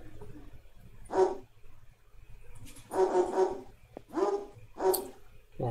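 Dogs barking in the video game Twinsen's Odyssey: five short separate barks, spaced irregularly over a faint low background hum, clear and fairly close.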